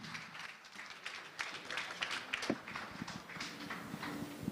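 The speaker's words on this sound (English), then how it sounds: "Keep clapping, keep clapping." Audience applause and clapping at a design and build expo knowledge session, a moderate continuous patter of many hands with some louder individual claps, steady throughout without talk.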